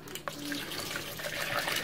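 Cold water poured from a tap for a jar brine in a Polish kitchen while canning green beans: a continuous splashing, running stream, fairly close and steady, with no talk over it.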